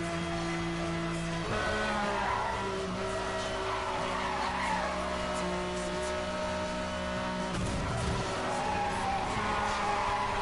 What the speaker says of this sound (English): That's like the meanest upshift I've ever heard in a friggin' game